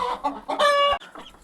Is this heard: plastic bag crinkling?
no